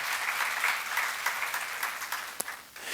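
Seminar audience at a sermon giving a round of steady applause, dense clapping that holds and then thins near the end, with no voices.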